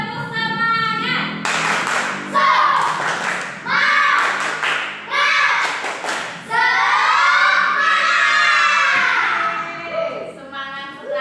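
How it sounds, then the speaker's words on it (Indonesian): Children at school perform a rhythmic spirit clapping chant, bursts of hand claps interleaved with their chanted voices, loud and close, repeating in short patterned phrases. "Kita tepuk semangat dulu ya."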